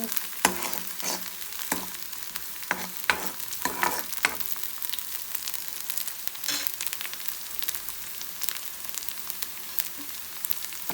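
Curry leaves are roasted in a hot tempering for Andhra-style palak pappu, crackling and sizzling steadily in the pan, with sharp pops and occasional stirring scrapes close by.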